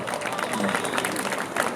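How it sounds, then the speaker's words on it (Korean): An audience at an outdoor unveiling ceremony claps to welcome a speaker, a steady burst of crowd applause across the whole short stretch, moderately loud. "여러분 박수로 환영해 주십시오"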